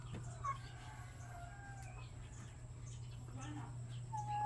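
A brooding half-breed hen clucks softly in a few short, scattered calls over a low steady hum, quiet and close-ish in a farm coop setting.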